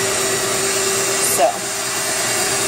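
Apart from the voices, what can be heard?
stand mixer mixing mashed potatoes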